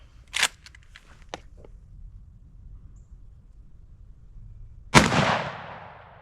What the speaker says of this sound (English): Let's see if I can hit what I'm shooting at with it.